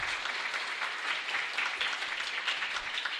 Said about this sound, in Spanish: Y un fuerte aplauso para todos nosotros.